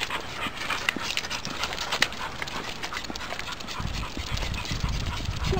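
A dog pants rapidly and steadily close by, quick breathy huffs repeating with a few faint scuffles in the background.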